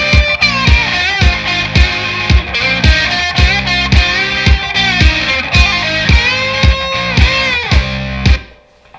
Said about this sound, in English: Okay, so that's how the first solo sounds.